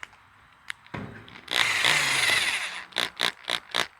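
A handheld drill spins a 1994 Dirt Devil vacuum brush roll, whining in one long sustained run followed by four short quick bursts, close and fairly loud in a quiet workshop.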